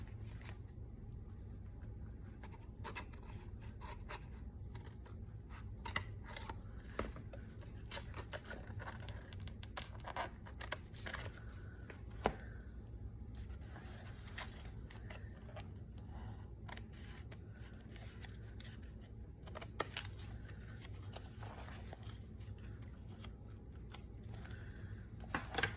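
Scissors trim paper for a junk journal made from double file folders, giving repeated close snips and light paper rustles at an irregular pace over a steady low background hum, with no talking.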